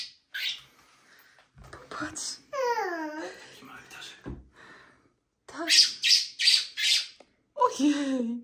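A bird squawks and chirps in a few short bursts close by, with a person talking in between the calls.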